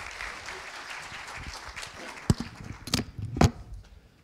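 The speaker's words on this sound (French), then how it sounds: "Bon, on les applaudit encore." Audience applause during opening speeches and sponsor remarks, a fading patter of clapping followed by a few isolated sharp claps or knocks near the end.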